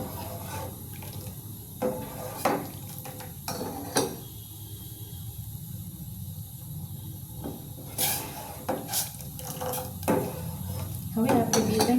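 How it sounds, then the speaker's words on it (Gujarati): A spoon stirs sago kheer in a pot, making soft, irregular scrapes and knocks against the metal over a quiet, steady background hiss. "થોડું હલાવતું રહેવાનું, કારણ કે સાબુદાણા નીચે બેસી જાય એટલા માટે"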